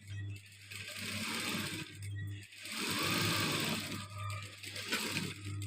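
Sewing machine stitching around a garment neckline, a steady close mechanical whir in bursts separated by brief pauses, with a constant low motor hum throughout.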